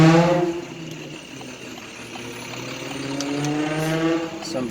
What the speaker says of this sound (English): Some cars sound husky with, you know, an exhaust, and others are just obnoxious.